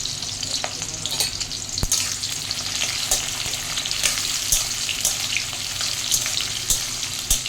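Onions fry in hot oil in a pan, a dense close sizzle with scattered sharp crackles and pops throughout.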